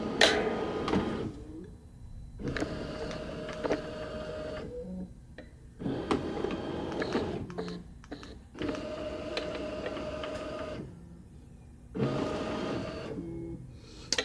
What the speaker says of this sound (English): So you're going to click on trace here. And it'll start the machine to trace.